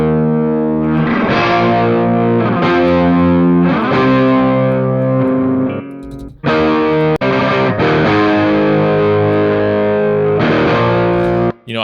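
Loud distorted electric guitar chords ring out in a big, spacious hall reverb, with a couple of brief pauses before the strumming resumes.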